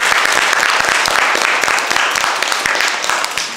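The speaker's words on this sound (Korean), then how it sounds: "다시 한번 강상률 회장님께 큰 박수 부탁드리겠습니다" Steady, dense audience applause at a Korean talk concert in Mungyeong, a full crowd clapping loudly and continuously with many individual claps blending together, no talk over it.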